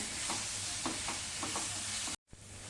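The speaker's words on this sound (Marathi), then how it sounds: "आता चिरून घेतलेला कांदा घालूया मी मध्यम आकाराचे दोन कांदे इथे उभे चिरून घेतले कांदा चांगला फोडणीवरती परतवून घेऊया" Sliced onion sautés in hot tempering oil with a constant close sizzle and soft, regular stirring scrapes, broken by a brief dropout near the end.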